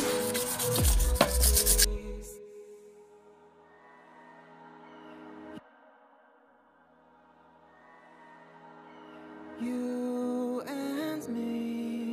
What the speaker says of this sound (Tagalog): So gamitan natin ng liha 100 mga paps. Liha 100 muna.